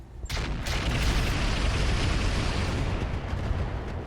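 Rotary rifle fired in X3 mode in the RogueTech BattleTech game, a sustained, dense roar of rapid automatic fire that starts sharply and holds steady and loud for several seconds with no talk.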